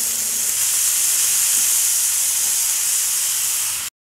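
Dill leaves (shepu) hit a hot pan of browning seasoning for shepu bhaji, setting off a loud, steady sizzle and hiss close up. The sizzle lasts about four seconds with no talking, then stops abruptly.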